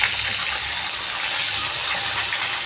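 Pieces of turmeric-and-salt-rubbed wetland fish dropped into hot oil give a steady, dense sizzle that stays loud and close throughout, with no voices over it.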